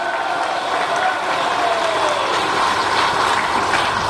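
An indoor gathering of people claps steadily in a dense, moderately loud patter of many hands, with a murmur of voices underneath throughout.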